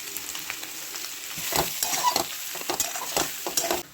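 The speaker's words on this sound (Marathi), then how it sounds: "आता बटाटा परतला आपण" Potato frying in a pan with salt, stirred for vada pav filling, gives a dense close sizzle. Scraping stirs and crackles break through in bursts that grow busier in the second half, and no one speaks.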